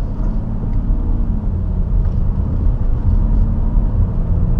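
A BMW 430d xDrive Gran Coupé accelerates on ice, its diesel engine giving a loud, deep, steady rumble heard from close by, rising slightly in intensity partway through.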